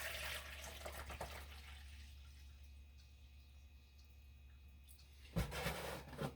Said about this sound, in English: I'm pouring the water in